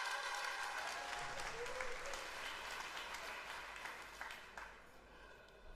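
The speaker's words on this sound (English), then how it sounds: "Can we give a massive round of applause for them?" Conference audience applauding at App.js Conf 2024, a dense, steady wash of clapping from a large crowd that carries through the whole stretch and thins slightly toward the end.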